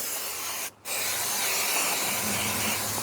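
Aerosol spray can hissing onto Opel Corsa Utility 1.4i camshaft parts to clear residue, a loud close steady burst with a brief break partway through, no talk.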